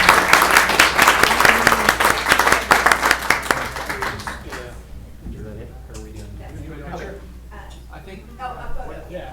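An audience at a city council meeting bursts into loud, dense applause that fades after about five seconds, and then people talk quietly over the room murmur.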